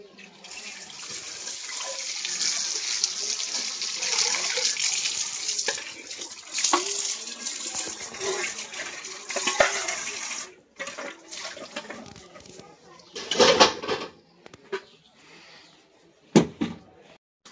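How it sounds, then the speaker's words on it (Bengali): Dishes, plates and pots are washed under a running tap, with a continuous splash of water broken by clinks and knocks of crockery that grow sparse and intermittent toward the end; no talk. "এখানে থালা বাসন ধুচ্ছে"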